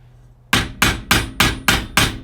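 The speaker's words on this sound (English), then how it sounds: "then I use my chisel and hammer to give it a little bit of" Six sharp, evenly spaced metallic hammer blows on a chisel ring out one after another, loud and close, while loosening a rubber subframe bushing on a BMW.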